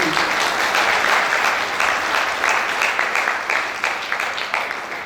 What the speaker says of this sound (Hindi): एक बार आप लोगों की जोरदार तालियां।